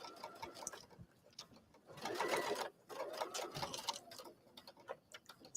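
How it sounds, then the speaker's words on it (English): A sewing machine stay-stitches a fabric coaster, its quiet rapid needle chatter running in short bursts with brief pauses. "Let's do a stay stitch right there. I'll go ahead and just stitch off."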